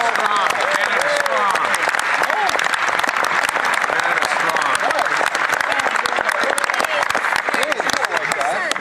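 Sustained applause fills the chamber of the Canadian House of Commons during a spring fiscal update, a dense, steady roar of many hands clapping with voices mixed in, loud and unbroken throughout.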